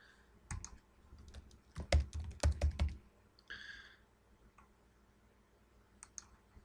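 Typing on a computer keyboard to log in to a web page: a close run of quick key clicks, densest in the first few seconds, then a few scattered taps.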